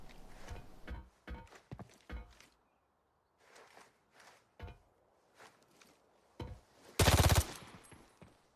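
Gunfire in the video game Arena Breakout: scattered single shots and footsteps, then a loud automatic burst near the end, close and sharp against quiet gaps.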